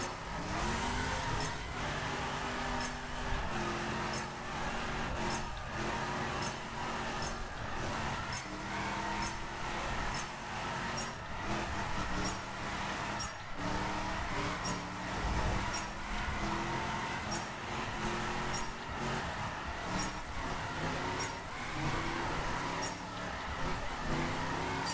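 Racing-game car engine from The Crew held in second gear, a steady mid-pitched drone with rising and falling rev tones throughout, continuous and loud with no talk.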